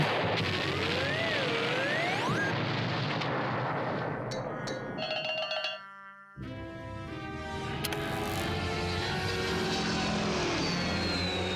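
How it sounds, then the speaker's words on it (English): A cartoon airplane flies with a loud droning engine and whistling pitch sweeps, breaks off briefly, then crashes with a dense burst of clattering noise and ringing tones, continuous and loud throughout. "Why does the plane crash on him?"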